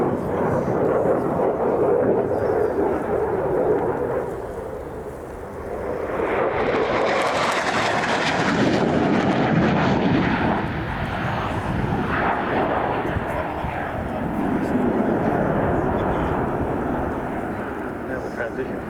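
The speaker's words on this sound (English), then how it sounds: "setting up for the high-speed pass" An RAF Typhoon jet makes a high-speed display pass at the Royal International Air Tattoo, a loud roaring engine rumble swelling into a sharp tearing surge as it passes close, then fading into a long rolling roar.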